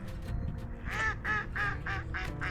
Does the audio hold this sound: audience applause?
no